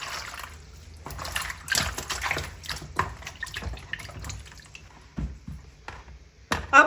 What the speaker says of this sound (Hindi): मूली को भी धो लेंगे।